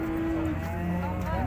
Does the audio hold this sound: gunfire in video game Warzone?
no